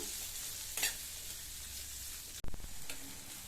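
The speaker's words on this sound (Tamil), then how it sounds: "நிதானமான தீயில வச்சு இந்த நெல்லிக்காயை நல்லா சாஃப்டா வர வரையும் வதக்கிக்கணும்." Indian gooseberries with a pinch of turmeric sautéing in a kadai over low heat; a soft, steady sizzle sits under a couple of sharp spatula scrapes and knocks against the metal.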